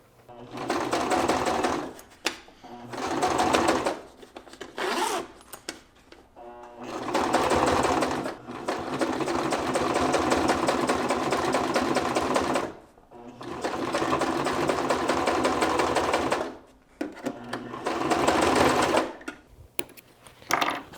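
Sewing machine top stitching 4-way stretch fabric in several loud, close bursts of fast rhythmic needle hammering, separated by short pauses, with no talk over the runs.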